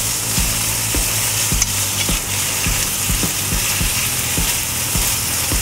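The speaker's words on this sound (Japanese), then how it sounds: "手早くお肉を広げるような感じで炒めるとお肉が柔らかく焼き上がります。" Pork stir-fried in a pan, meat spread out quickly: constant loud sizzling with regular sharp clacks of a utensil scraping and tapping the pan about once or twice a second, close up and with no voices.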